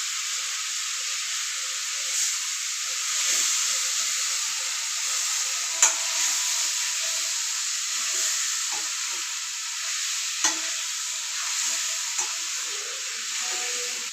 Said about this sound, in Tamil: இப்போ கிழங்கு போடணும் அதையும் போட்டு நல்லா வதக்கி விடுவோம்